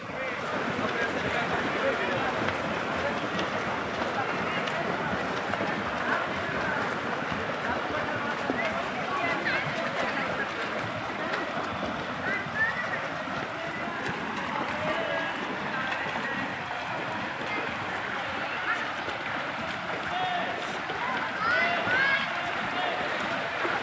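Freestyle swimmers race at a district-level school swimming competition in 2024, with steady splashing and churning water throughout under a wash of crowd noise and commentary.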